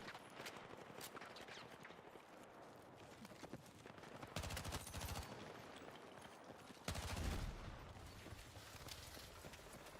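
Rapid SMG gunfire from the Star Citizen video game, dense continuous bursts with two louder volleys partway through, fairly loud and steady across the whole stretch.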